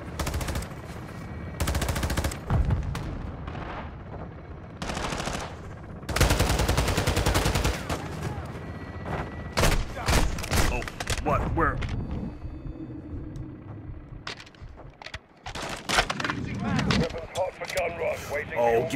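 Heavy gunfire in Call of Duty Modern Warfare 2 tears through a building: long bursts of automatic fire and scattered single shots, loud and close, mixed with game noise and someone talking over it.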